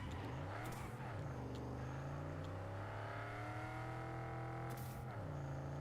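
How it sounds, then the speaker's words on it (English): A car engine in Cyberpunk 2077 revs and shifts steadily at close range, rising and falling in pitch with brief whooshes, as in a racing game. "This car sounds so sick."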